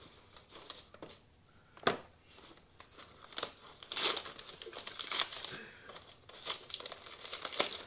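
A wrapped package being unwrapped by hand, paper crinkling and tearing in irregular bursts over several seconds, close and moderately loud, with a few sharp rustles and no clear speech.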